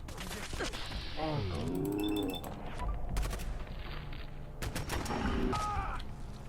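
Gunfire in Fallout 4 on Survival difficulty: rapid bursts of sharp shots and clattering mechanical sounds fairly far off, mixed with whistling tones and game noise.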